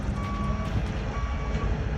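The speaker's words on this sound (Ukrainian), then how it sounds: "Автомобілі за допомогою форкліфтів завантажуються в контейнери." Reversing beeps sound from forklifts loading cars into shipping containers at a partner warehouse in California, with a steady repeating alarm tone over a constant rumbling engine drone and no talk.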